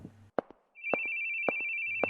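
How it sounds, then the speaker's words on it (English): Telephone in The Boogie Man video game ringing with a sustained high electronic tone, punctuated by sharp rhythmic clacks at regular intervals, clear and isolated with no talking. "The ringing phone."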